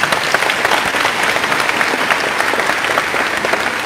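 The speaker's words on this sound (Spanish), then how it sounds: "Aplausos para los dos hermanos." Loud, sustained congregation applause for two church brothers at a Spanish-speaking church gathering, a continuous dense wash of many hands clapping with no pauses.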